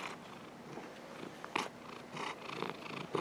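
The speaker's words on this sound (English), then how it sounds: "Hello there, cat." A cat purrs softly and close by indoors, a low continuous rumble with a few brief louder rustles and bumps breaking through near the end.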